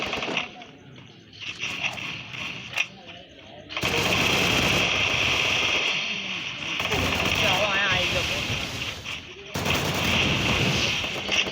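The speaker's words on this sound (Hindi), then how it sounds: "એ લોકોને ગનનો અવાજ આવ્યો" Gunfire rattles in a Free Fire custom match, with sustained loud bursts of shooting and game noise running in long stretches beneath excited voices talking.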